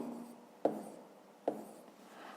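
Two quick marker or chalk strokes on a board while writing math, each a sharp tap followed by a short scratchy rub, quiet and close with a soft hiss between and no talking.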